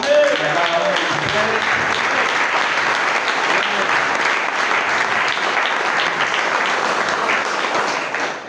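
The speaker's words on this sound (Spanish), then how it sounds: "démosle un aplauso al Señor" A church congregation in San Miguel, El Salvador applauds for the Lord, loud, sustained clapping from many hands that holds at an even level for more than eight seconds.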